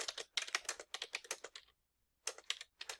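Someone types code on a computer keyboard in quick bursts of close, crisp key clicks, pauses for about half a second, then resumes typing.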